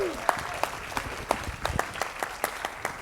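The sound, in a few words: audience applause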